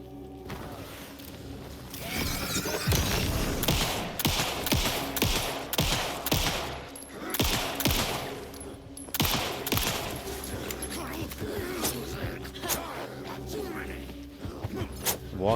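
Pistol fire in the survival-horror game Alan Wake 2, a run of sharp gunshots scattered across the clip amid other combat noise and shuffling, fairly close and loud.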